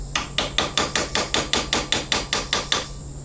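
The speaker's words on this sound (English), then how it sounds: "I used a hammer and chisel to remove the remainder" A hammer strikes a chisel to remove the remaining cut part during repairs on an IHI mini excavator, with twelve sharp metallic blows in a steady, even rhythm, loud and close, no voices.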